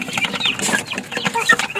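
Backyard chickens with a golden rooster clucking and squawking in short, close, overlapping bursts after a feeding, with no talking.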